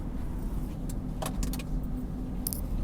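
Interior hum of a car driving along a Los Angeles street in the Watts area, a low steady engine and road drone with a few short high jingles and clicks like keys rattling, no talking.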